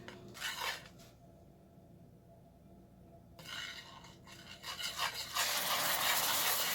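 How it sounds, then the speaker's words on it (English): A utensil stirs cream into caramel sauce in a pot, giving soft scraping and clinking against the metal in short bursts, with a quiet pause midway and a louder, continuous scrape toward the end, and no talking. "And you just want to keep stirring."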